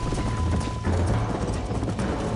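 Horse hooves galloping in the Red Dead Redemption video game, a steady, fast clip-clop rhythm that stays close and loud for the whole stretch, with a faint whinny in the mix.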